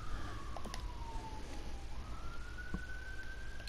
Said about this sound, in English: Sounds like there's an ambulance or something going by.